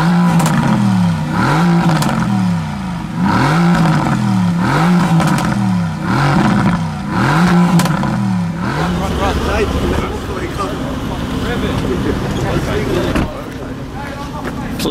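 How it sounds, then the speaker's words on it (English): Several cars rev their engines at a London supercar meet of AMG models, a loud rising-and-falling series of about eight blips in steady rhythm, then a denser, rougher engine roar with clatter, voices and crowd noise mixed in. "there's more cars revving"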